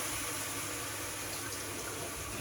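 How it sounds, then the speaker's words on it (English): Water poured into a hot pan of pork bolognese sauce, giving a steady, hissing, gushing rush of liquid and sizzle that runs evenly throughout with no talking. "I put the water in and it all came up steamy"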